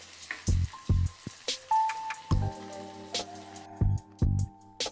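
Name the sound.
tempering spices frying in hot oil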